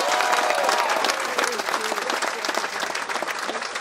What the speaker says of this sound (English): Could we have a round of applause for Tom Hacker, please?